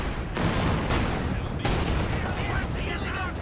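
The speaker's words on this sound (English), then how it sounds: "Hear a lot of explosions." A strategy video game battle fills the air with explosions and gunfire, a dense steady roar of rapid shots and booms with no break.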